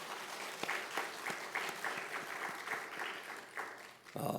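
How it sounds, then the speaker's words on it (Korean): A church congregation at a Sunday worship service claps together, a soft, distant patter of applause in a reverberant hall, ending as a voice begins. "박수 한번 하겠습니다"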